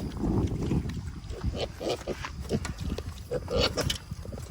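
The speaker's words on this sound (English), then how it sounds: "Still oinking? Yep. I'm messing with them when they eat." Farm pigs grunt and oink while eating outdoors on a windy day, with rough close snorts over heavy wind rumble and people talking nearby.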